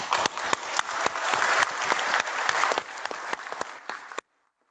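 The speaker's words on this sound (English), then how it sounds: "everybody we should give all these past masters as well as our current worship master a" Hearty round of applause from members gathered at a Masonic lodge's 150th anniversary, honouring past masters and the current worship master; a crowd claps loudly with sharp individual claps standing out, then cuts off abruptly.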